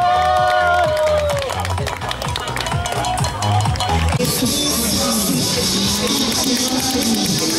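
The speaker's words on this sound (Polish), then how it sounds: "Wielkie, wielkie brawa dla niego." Crowd at a quarter marathon music run in Piła applauding and cheering as runners pass, dense clapping and shouts with a loud amplified voice over the first half, then a steady roar of applause and cheering.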